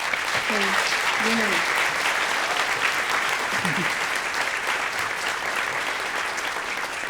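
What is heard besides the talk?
audience applause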